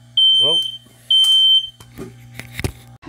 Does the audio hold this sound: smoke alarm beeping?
yes